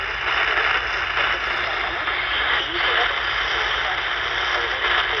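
A Tecsun PL-368 portable set tuned to a shortwave station on its whip antenna gives a loud, steady wash of static hiss with a weak, muffled signal buried underneath, continuous and close.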